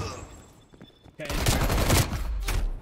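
Video game gunfire from a heavy scoped gun, a dense burst of loud shots erupting after a quieter start and continuing as a rattling volley to the end.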